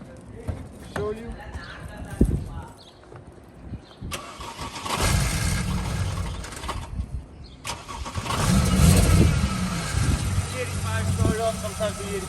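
A BMW 335i with the N54 engine, freshly fitted with a Walbro 535 stage 2 low-pressure fuel pump, cranks and fires up, then settles into a steady idle rumble that swells again later, close to the car.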